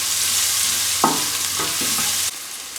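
Vegetables frying over high heat in a pan for a restaurant-style chicken balti curry, with a loud continuous sizzle and a few stirring scrapes, the sizzle dropping slightly near the end.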